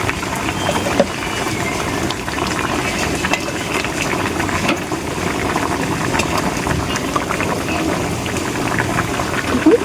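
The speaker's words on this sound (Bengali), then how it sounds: "দেখুন বেগুনটা কিন্তু ভালো মতো ফুটছে" Eggplant curry bubbling hard in a pan before fried tilapia goes in, a dense continuous boiling and sizzling rumble, close and loud throughout.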